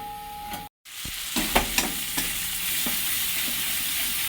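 Ground turmeric, cumin and coriander spices fry with a little water in a pan, a continuous close sizzle broken by a few spatula scrapes and taps, with no voices.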